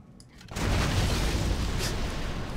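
A cannon in Torchlight II opens up on a totem with a sudden heavy boom, followed by a sustained loud rumbling blast that holds for a couple of seconds.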